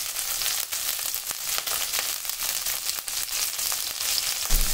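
Onion pieces, green chillies and curry leaves sizzle in hot oil for a cauliflower fry, a continuous close crackling hiss with bright spitting pops and faint stirring.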